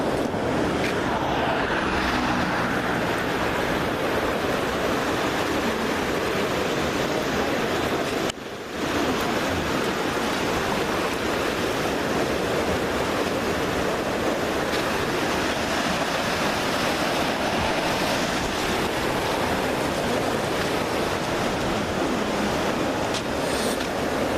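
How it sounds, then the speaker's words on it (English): Steady, loud rush of water flowing beneath a bridge, a continuous broadband roar with no break in intensity and no voices. "the water going under the bridge"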